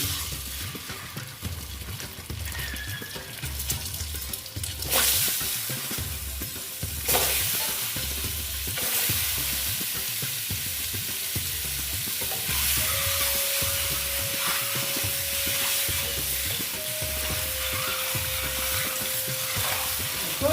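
Eggs frying in a pan of turmeric and Kashmiri chilli masala for an Afghani egg curry, a steady close sizzle broken by sharp clanks of a utensil against the pan and a few brief stirring scrapes.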